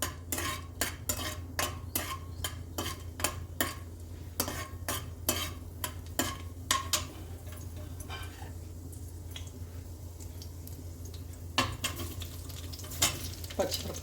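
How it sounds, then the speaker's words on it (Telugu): Green chillies fry in a pan for onion roti pachadi, a steady close sizzle running throughout while a spoon stirs and scrapes the metal pan in frequent sharp clinks and taps. "ఇది కొంచెం ఫ్రై అయిన తర్వాత మనం ఉల్లిపాయలు వేసేసుకుంటాం"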